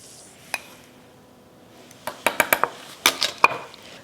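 A few sharp metallic clinks of a spoon against glass jars as teaspoons of salt are added, one isolated tap followed by a quick cluster of bright clinks, close and fairly quiet.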